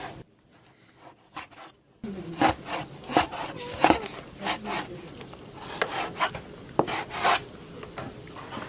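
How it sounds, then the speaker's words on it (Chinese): A knife slices pork into strips on a wooden board in a home kitchen, with a series of close, irregular scraping and tapping strokes after a quiet start. "猪肉切成条儿"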